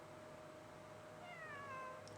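Cat meowing in the video game Genshin Impact, a single faint, drawn-out meow rising near the end over a quiet background hum.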